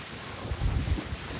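Strong storm wind in coastal Konkan roars steadily, with a louder gusting surge of low buffeting on the microphone midway through before easing back.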